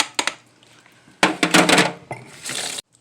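A steamer basket being fitted into a pot for mashed potatoes, with sharp metallic clanks and a scraping rattle up close, then a brief settling clatter.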